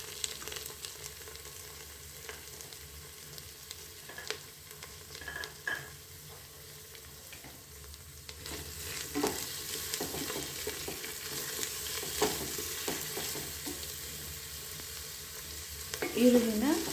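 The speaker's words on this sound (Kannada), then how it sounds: "ಈರುಳ್ಳಿ ಚೆನ್ನಾಗಿ ಫ್ರೈ ಆಗಿದೆ" Onions fry for ghee rice in a pan with a soft continuous sizzle, broken by scraping and clinking of a spoon stirring, growing louder midway and ending in a burst of stirring.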